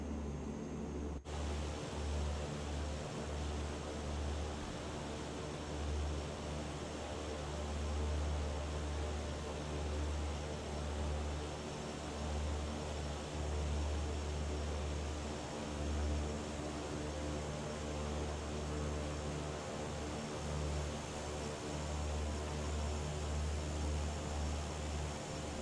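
Steady engine drone of a CL415 amphibious aircraft in Microsoft Flight Simulator 2024, a continuous low hum with a faint broadband hiss that holds evenly for the whole stretch, with no voices.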